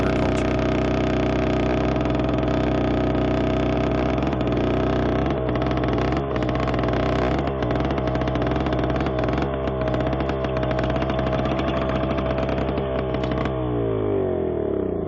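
A four-cylinder diesel engine on a DT-75 crawler tractor runs at a steady idle, loud and close, with a constant throb throughout and a brief shift in tone near the end. No voices are heard.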